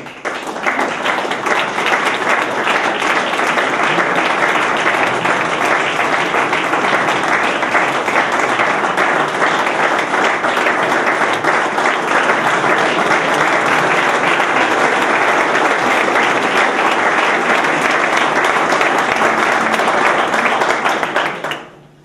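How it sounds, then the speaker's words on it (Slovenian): Sustained applause from an audience at a sports awards ceremony in Ravne na Koroškem, dense even clapping held at full strength for about twenty seconds before cutting off abruptly. "Še enkrat boste lahko zaploskali"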